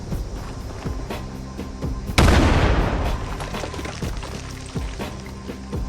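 A thrown explosive detonates on a road in Fallout 76, a sudden loud boom mid-clip with a long rumbling, crackling decay over steady game background sound.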